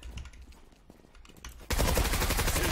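An M468 rifle in the shooter Zula opens up in a sudden, loud, sustained automatic burst after a quieter stretch of faint game sounds and clicks.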